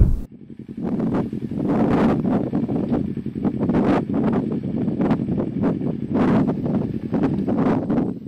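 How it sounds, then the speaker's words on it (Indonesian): Strong wind buffeting a camera microphone at a wide lakeside in Suoh, West Lampung, loud rumbling gusts pulsing in repeated bursts roughly every second, close and harsh, with no talking. "Angin di atas ini kencang sekali sehingga menyebabkan noise pada kamera."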